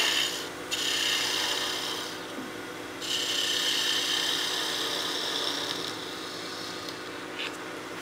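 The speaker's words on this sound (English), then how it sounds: "Switch to my spindle gouge to round this over if you need to." A spindle gouge shaving a small wooden birdhouse ornament spinning on a lathe, giving a steady close rasping hiss that swells and eases as the tool is pressed and lifted, with no talking.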